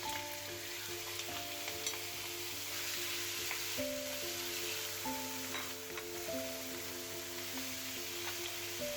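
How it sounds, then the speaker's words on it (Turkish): Chicken pieces sizzle and crackle steadily in hot vegetable oil in a pot, a continuous frying hiss with soft background music. "Uygun bir tenceremize 2 yemek kaşığı sıvı yağ döküp tavuklarımızı 1-2 dakika arkalı önlü biraz kızartalım"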